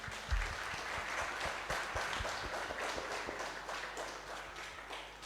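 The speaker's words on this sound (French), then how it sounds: "l'église applaudit le Seigneur." A church congregation applauding, a dense, sustained clapping that fills the room at moderate distance with a few louder claps near the start, with no talk over it.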